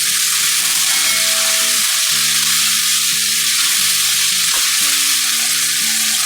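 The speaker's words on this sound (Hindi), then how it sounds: "और इसको भी आधा मिनट तक फ्राई करेंगे।" Red chilli powder and salt frying in a pan for a pasta dish give a loud, continuous, close sizzle that runs unbroken throughout, with faint tonal sounds underneath.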